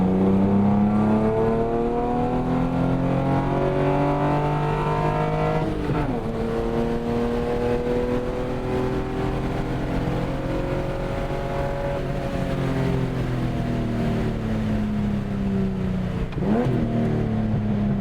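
A Nissan 280ZX with a freshly rebuilt cylinder head revs hard at full throttle on a test drive, its engine note climbing through gears with audible shift dips, loud and close, steady from start to finish.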